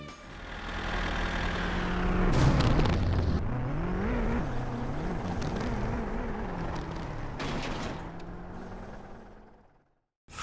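Tractor engine rumbling loud and continuous in My Summer Car, with a rough mid-clip surge as it strikes a car during a rally, then cutting to near silence just before the end.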